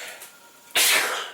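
A single sharp sneeze bursts out close to the microphone, briefly loud and breathy, in a quiet room.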